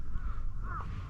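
Crows cawing on a Japanese island home to hundreds of rabbits, two harsh caws in quick succession, fairly close and clear over a low outdoor rumble.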